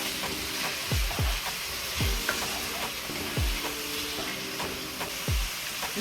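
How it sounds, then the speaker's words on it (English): Garlic sautéing in a pan for a vegetarian Creole jambalaya with celery, a steady crackling sizzle broken by repeated low thumps and scrapes as a spoon stirs, close and fairly loud, with no talking. "And keep sauteing"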